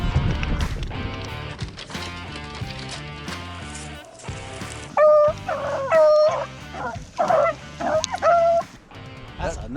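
A dog whimpers and lets out high, wavering whines and yips close by. The cries come in several bursts during the second half, after a busier stretch of sound.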